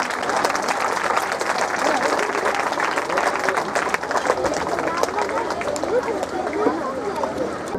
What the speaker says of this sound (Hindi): कृपया आप लोग जोरदार तालियों के साथ उनका स्वागत और अभिनंदन कीजिएगा।